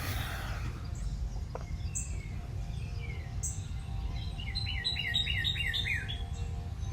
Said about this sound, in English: them birds chirping